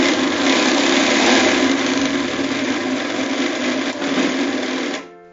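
An electric mixer grinder whirs loudly and steadily as it grinds almonds, cardamom and saffron to a powder for badam semiya payasam, running alone for about five seconds before winding down at the end.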